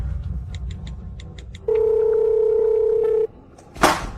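A telephone rings back while a call is being placed. A row of faint keypad beeps comes first, then one steady ringback tone of about a second and a half, and a short rustle after it, with no talking.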